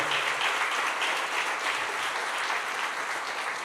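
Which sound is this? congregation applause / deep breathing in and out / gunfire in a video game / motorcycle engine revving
congregation applause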